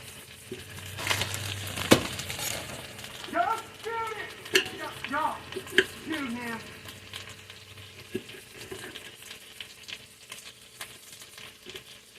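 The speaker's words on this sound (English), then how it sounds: "in my hot skillet, I want to melt some butter in there" Butter melts in a hot skillet with a steady sizzle and frying crackle, accompanied by a few clinks and stirring scrapes close by, while a voice speaks briefly in the middle.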